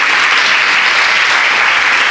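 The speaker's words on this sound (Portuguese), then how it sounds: "E você pudesse dar salva de palmas para ela." Dense, steady applause from a church congregation fills the room, loud and continuous with no break.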